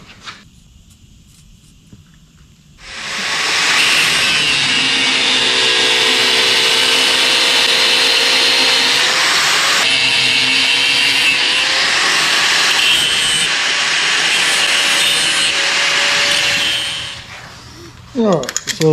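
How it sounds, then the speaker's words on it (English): A power cutting tool cuts away part of a metal AC compressor bracket for a low-mount LS swap, giving one loud, steady, high whine that holds for about fourteen seconds before spinning down, close up with no talk over it. "So I'm going to come in here and cut that out of it."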